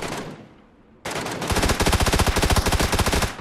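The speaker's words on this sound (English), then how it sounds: "I don't even know who you're shooting at." Automatic gunfire in PUBG rattles out in rapid, loud, close bursts after a short lull and a sudden burst of noise, then continues as a dense run of evenly spaced shots.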